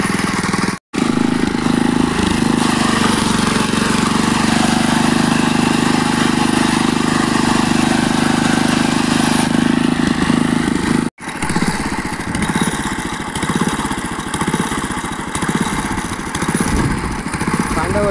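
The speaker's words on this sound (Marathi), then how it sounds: "मित्रांनो, मशीन चालू केलं आहे आपण." A wheat harvesting machine with a punctured wheel runs its engine in a farm field, a loud continuous mechanical drone held steady throughout, with two brief dropouts and someone talking over it.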